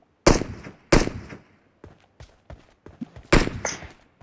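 Gunfire in the battle-royale shooter PUBG: three loud, close shots spaced about a second apart, with faint scattered pops from farther off in between.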